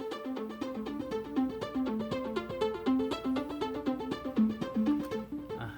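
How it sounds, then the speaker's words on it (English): A disco arp string patch on the TAL-U-NO-LX virtual synthesizer plays a quick, even arpeggio of bright sustained notes in a steady repeating pattern, alone and moderately quiet. "It's kind of a string sound. I actually have it listed here as disco arp,"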